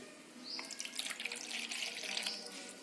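Water streams steadily from a tap into an idli dish for a few seconds, a close, continuous splashing trickle.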